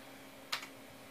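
A Macintosh IIci computer keyboard gives a quick pair of quiet keystroke clicks, close and isolated against a faint background hum.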